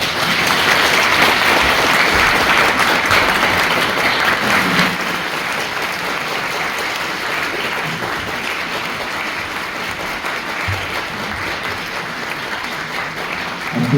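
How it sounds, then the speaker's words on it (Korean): A lecture hall audience gives a big round of applause to welcome a guest lecturer for a special AI talk, loud, dense clapping that holds strongly, then eases slightly and carries on steadily for over ten seconds. "큰 박수로 환영 부탁드립니다."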